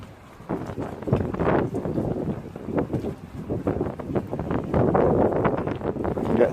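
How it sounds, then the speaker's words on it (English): Strong wind on a walk beside Hollingworth Lake buffets the microphone in loud, uneven rumbling gusts, with no voices. "it's very windy"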